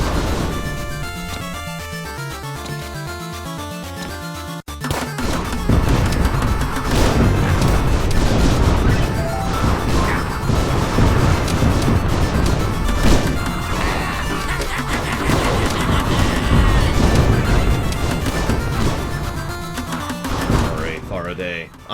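Rapid explosions from a machine gun grenade launcher in the video game Nefarious crash and boom continuously over game music, loud and dense after a brief quieter opening.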